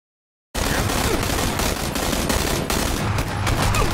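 Gunfire in the battle royale game PUBG, including shotgun blasts: after half a second of silence, a loud, dense stretch of repeated shots and bursts cracking close by with little pause.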